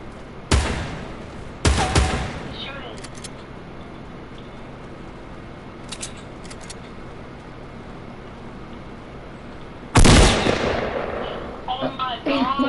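Video game gunfire in a battle royale match at Tilted Towers, several loud, sharp shots and bursts spaced across the stretch, one heavy blast near the end, over a constant background of game noise.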